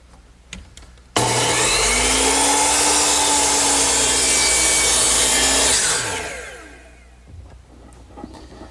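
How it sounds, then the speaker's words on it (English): A saw set to 45 degrees cuts an angle in wooden cabinet molding: a loud, abrupt burst of steady cutting noise for about five seconds, then a whining wind-down fading into quiet. "So I turn my saw to 45 degrees and cut the angle."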